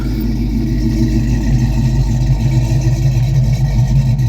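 A car engine warming up in a cold shop where a Charger and a Chrysler 300 are kept: a loud, steady, close rumble with a low throbbing idle and no speech.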